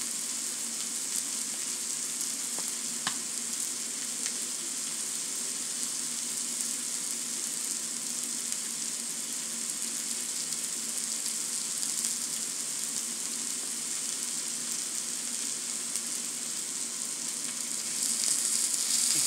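Steak frying in a hot pan, a steady, close, continuous sizzle with a faint crackle, unbroken for the full length with no talk over it.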